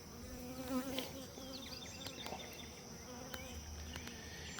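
Steady droning buzz of many honey bees swarming nearby, a continuous hum with individual bees zipping past, fairly quiet overall.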